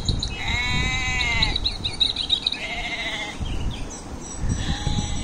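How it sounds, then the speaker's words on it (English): Goat bleats from a recorded children's story come as several wavering, drawn-out calls in sequence over a noisy background, with a few pauses between them. "And this is a goat."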